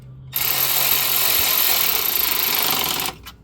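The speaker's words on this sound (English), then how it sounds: "Now I'm just getting them tightened up." Skid plate bolts on a Can-Am X3 being driven tight into rivet nuts with a power tool: one continuous close buzzing run of about three seconds, then it stops.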